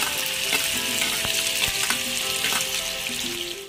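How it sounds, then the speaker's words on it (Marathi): Onion frying in oil in a pan for a Malvani-style fish masala, a steady loud sizzle with a few sharp crackles and stirring knocks, no voices. "हे बघा आपण 2 पळी तेल घालून घेऊया। तेलामध्ये आपण हे बघा कांदा घालून घेऊया।"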